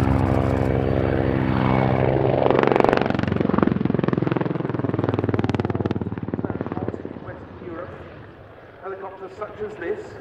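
A Hungarian Air Force Mil Mi-24P Hind helicopter roars close overhead at an air display with a throbbing rotor beat, then fades into the distance as a voice speaks over it.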